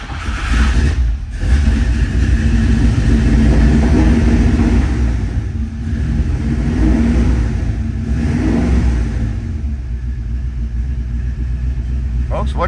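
A 1951 Ford Woody Wagon County Squire engine cold starting and revving, a loud low rumble that swells through several revs and then settles toward a rough idle, with a voice speaking over it.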